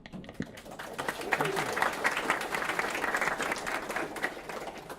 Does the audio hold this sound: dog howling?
no